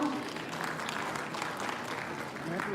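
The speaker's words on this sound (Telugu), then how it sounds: "ఒకసారి గట్టిగా చప్పట్లు కొడదాం" An audience applauds at a Sobhan Babu 50th anniversary celebration event, a dense steady patter of many hands clapping together from across the hall, fairly distant and continuous throughout.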